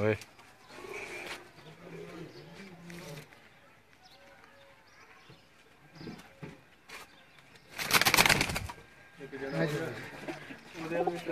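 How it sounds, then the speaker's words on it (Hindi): A pair of old Sialkoti pigeons, the male pearl-marked, give low repeated coos close by. The coos mix with someone talking and a burst of noise near the middle. "ये मोतियों वाला कबूतर जो बोल रहा है"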